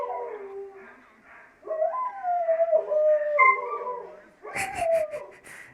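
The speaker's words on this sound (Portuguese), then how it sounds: "sempre que esse cachorro late, os meus cachorros começam a uivar, como talvez vocês estejam ouvindo" Several dogs howl together in long, wavering overlapping tones, nearby and fairly loud, ending with a burst of yips and barks.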